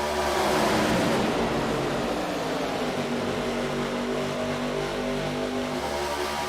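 Race car engines in the iRacing video game at Daytona, a loud sustained drone of a pack of cars at full throttle, steady pitch with slight shifts, no talk over it.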